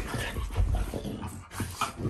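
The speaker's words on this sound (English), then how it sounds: "Dog fighting." French Bulldogs scuffle at close range in short bursts of growls, grunts and whimpering yips, continuous and fairly loud, with no talk over them.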